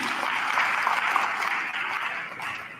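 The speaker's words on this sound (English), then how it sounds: "Let's give a round of applause for that." Audience applause at a business gathering in Cosmo City, a dense wash of many hands clapping together, steady and fairly loud, tapering slightly toward the end.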